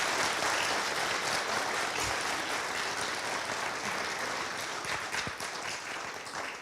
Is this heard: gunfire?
no